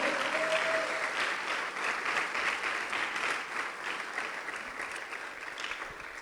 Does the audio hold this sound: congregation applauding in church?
yes